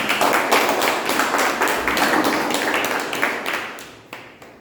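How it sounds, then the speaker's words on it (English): A room full of people at a club meeting applauds, dense steady clapping that stays loud throughout and begins to thin toward the end. "Big round of applause."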